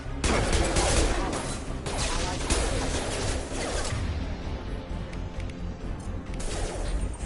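Mass Effect 2 combat erupts in dense, rapid gunfire, bursts of shots and crashing impacts layered loud and continuous throughout, with voices intermittently beneath the shooting.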